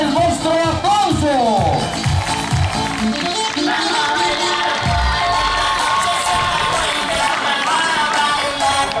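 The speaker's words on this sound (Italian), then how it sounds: "E ancora il vostro applauso." A crowd at an outdoor show applauds and cheers loudly and continuously, shouts and whistles rising over dense clapping, while an announcer talks through it.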